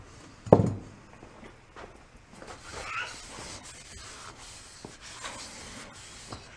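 Abrasive rubbing scrapes rust off an engine part from a blown-up VW Bus engine, with one sharp knock near the start and then steady, gritty scrubbing strokes close by.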